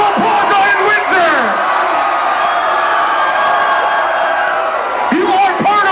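A huge festival crowd at Festival Plaza in Windsor roars and whoops steadily throughout, with scattered shouts rising above the dense, continuous cheering.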